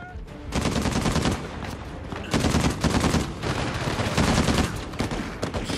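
Heavy weapons rattle in Uncharted 4 gameplay, sustained bursts of loud rapid gunfire in three long volleys with short gaps between them.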